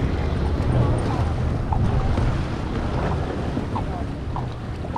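An hourly tour boat moves on the sea at Eski Foça, heard as a steady wash of water and engine rumble under strong wind buffeting the microphone.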